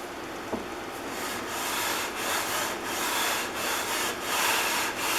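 Rhythmic back-and-forth scraping as the sole of a Stanley No. 33 jointing plane is lapped flat on abrasive, about eight strokes in a steady cadence, close and clear with no talk.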